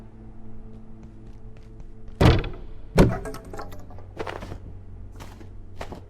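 Wooden crates smashed apart in the survival game Abiotic Factor: two heavy splintering thunks a moment apart, then a couple of lighter cracking breaks, all close and loud over a low steady game hum.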